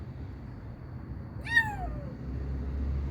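A scared kitten stuck inside a car lets out one clear, drawn-out meow that bends downward, fairly close, against a quiet low rumble with no talk.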